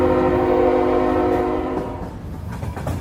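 A train horn blares loudly in a video game disaster scenario, a long sustained multi-tone blast that cuts off partway through, leaving rumbling train noise and rail clatter underneath.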